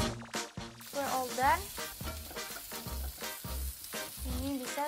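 Food sautéing in olive oil on a home kitchen stove gives a continuous hissing sizzle beneath a person talking, with occasional soft stirring sounds.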